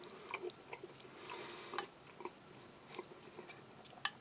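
Someone eating cold canned tuna salad with potatoes from a Spanish army individual combat ration, giving soft close chewing and wet bites with a few small clicks, quiet and with no talking.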